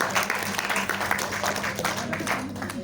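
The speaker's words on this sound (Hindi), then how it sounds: "सबके लिए जबरदस्त ताली" A crowd at a Hindi-speaking gathering claps for everyone in a steady, dense, fairly loud wash of applause that lasts the whole stretch without letting up.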